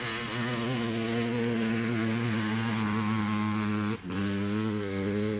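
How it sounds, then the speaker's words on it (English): A Honda CR500 two-stroke motorcycle engine in an aluminum frame drones steadily at close range with a buzzy, even tone and a brief dip near the end, no voices. "It's a 500 two-stroke in an aluminum frame."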